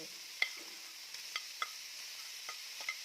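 Pork sizzles lightly in a pan with scattered clicks and scraping taps from stirring, fairly quiet and steady, with no voices.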